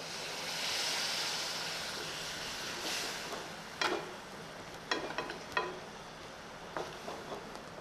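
Spinach paste for palak paneer sautéing in a pan, a soft steady sizzle with a few sharper spatters and stirring clicks in the second half, no talk.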